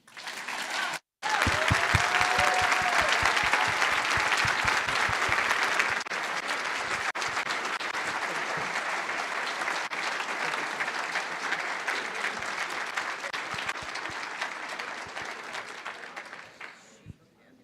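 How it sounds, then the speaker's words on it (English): Applause from an audience at a talk on reading, sustained dense clapping that starts abruptly after a brief pause, holds steady for many seconds and then gradually fades, with a voice briefly heard over it near the start. "Let's give her one more round of applause."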